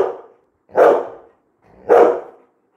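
A Labrador barks loudly and close by: one bark trailing off at the start, then two more full, deep barks about a second apart, each separated by silence.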